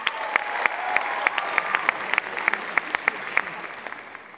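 An audience at a school talent show claps steadily, a mid-sized crowd producing a continuous patter with sharp individual claps standing out in a loose rhythm, fairly close and unbroken throughout.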